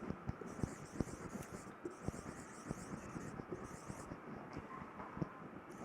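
Pen scratching on paper in a quiet room, a steady run of faint, close strokes and taps with a low hiss behind.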